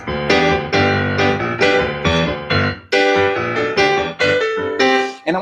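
Solo piano in a New Orleans rhumba style bounces with syncopated chords and a melody line, struck in loud, close, rhythmic phrases with short gaps between them and no voices.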